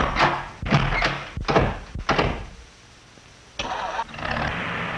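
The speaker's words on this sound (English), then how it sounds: "would you please step over to cab A and start the engine?" A truck cab engine fitted with an electric fan clutch starts after several heavy cranking thunks, catches briefly, drops quiet, then revives with a short burst of running.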